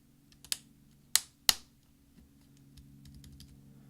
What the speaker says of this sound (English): we're going to push down with our finger until we hear some clicks